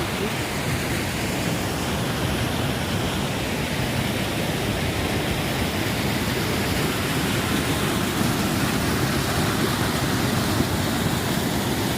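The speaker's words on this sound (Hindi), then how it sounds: "हमारे होम स्टे से वॉकिंग डिस्टेंस पे ये प्यारा सा झरना है।" Steady, broad rushing of a small waterfall fed by snowmelt in Spiti, constant and fairly close, with no voices or other sounds.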